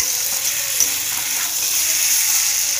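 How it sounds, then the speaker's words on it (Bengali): Food sizzling and frying in a pan while being stirred, a steady bright hiss with soft scraping movements throughout, close and fairly loud. "এখন আমি নাড়াবো এটা"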